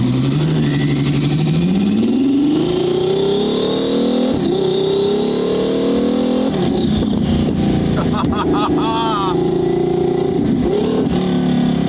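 A Ferrari's engine revs up and pulls with a loud, rising howl, close up, then a brief crackle of exhaust pops near the end.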